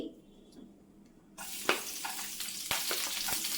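Onion drops into hot coconut oil with mustard seeds, starting a sudden loud sizzle after a quiet moment, with sharp crackles and spattering pops as the frying carries on.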